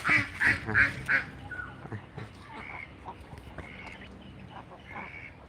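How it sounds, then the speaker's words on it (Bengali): Ducks on a small duck farm let out a burst of loud, nasal quacks in quick succession, then quieter scattered quacks and honks continue in the background. "দেখুন হাঁস বন্ধুরা এটা ছোটোখাটো হাঁসের ফার্ম আছে আমাদের"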